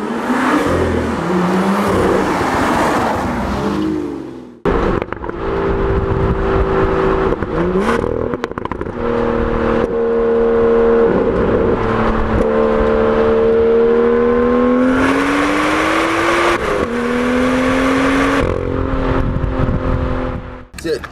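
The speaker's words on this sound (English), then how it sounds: "It makes some lovely burbles when you've got it in Sport Plus." A BMW M2 with active exhaust in Sport Plus mode revs loudly and repeatedly close by, its pitch climbing and dropping between blips, with brief pauses and burbling between pulls.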